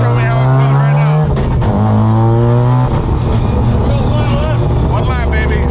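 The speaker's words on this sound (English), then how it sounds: "I just did some real mediocre laps in Alex's car" A loud 600hp rotary-powered S14 race car revs and shifts gears up and down on track laps, close and continuous, with a voice talking over the roar.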